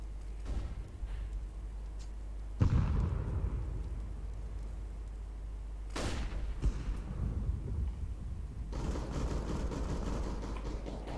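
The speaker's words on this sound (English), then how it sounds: "I'm throwing a flashbang." A flashbang grenade is thrown and detonates in a shooter video game. Two sharp, loud bursts stand out against a steady rumble of in-game noise, followed by a busier stretch of game sounds.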